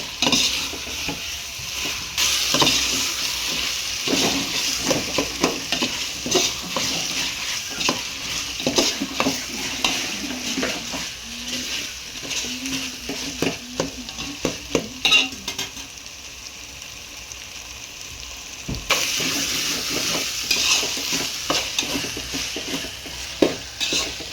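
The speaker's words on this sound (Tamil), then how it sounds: "தக்காளி போட்டு நல்லா கிண்டி விடுங்க" Tomatoes stirred and frying in a pan for white chicken biryani: a steady sizzle under repeated scraping and clinks of a spoon against the pan, close and continuous with brief pauses.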